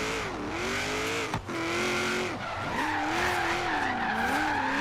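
A Subaru BRZ drift car skids through a drift in the Forza Horizon 3 racing game, its engine note rising and falling under a long continuous tire squeal, loud and close without talk.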